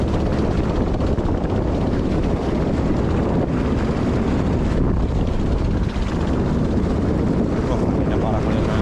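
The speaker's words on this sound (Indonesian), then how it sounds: "Oh, anginnya parah kali." Strong wind batters a fishing boat at sea, producing loud, continuous roaring buffeting that fills the whole clip, with a voice briefly heard amid the gusts.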